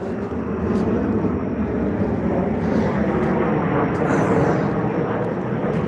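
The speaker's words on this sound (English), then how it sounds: "Sorry about the airplanes." Airplanes fly overhead in suburban Summerville, South Carolina, a continuous loud jet roar that swells and holds throughout with no break.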